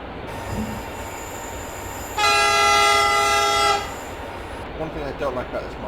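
A single loud train horn blast in Train Simulator 2021 on the Wiener Neustadt to Graz route sounds for about two seconds over steady rumbling engine noise from inside the cab.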